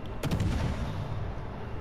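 Naval cannons in World of Warships: Legends roar out a full broadside as a sharp burst of blasts, followed by a long, low rumbling tail that stays loud to the end.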